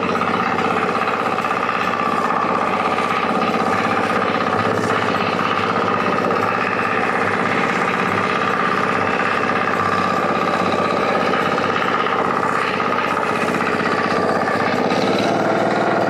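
A mini four-wheel tractor engine (FTI2010DE) runs steadily and loudly throughout, a continuous idling drone with mechanical vibration and no speech.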